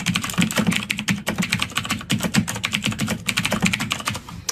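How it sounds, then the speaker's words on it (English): Steady typing on a computer keyboard, a fast run of crisp close keystrokes with brief pauses between bursts, loud and clear with no talk over it. "I'm going to type in a lyric from a song that I like."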